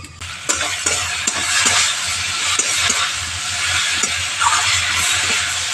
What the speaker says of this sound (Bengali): ঢাকা দিয়ে আলুগুলো একটু ভালো করে তেলের সঙ্গে মশলার সঙ্গে ভাজা ভাজা করে নেব